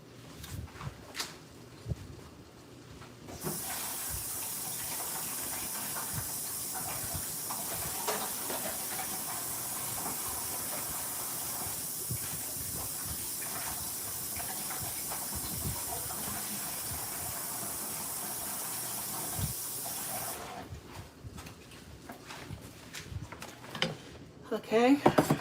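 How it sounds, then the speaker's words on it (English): Tap water runs steadily in a home kitchen, loud and continuous, as collard greens from a garden are rinsed under it, with quieter sounds before and after the flow. "I'm just gonna rinse these off real quick"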